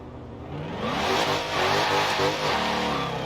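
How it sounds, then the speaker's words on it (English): A Dodge Challenger Hellcat Redeye Widebody in Forza Horizon 4 launches from a slow clutch roll into full throttle, its engine roaring and rising steadily in pitch, loud and continuous with no talk. "let's see if I just roll into the clutch. Like just roll into it slowly and then full throttle."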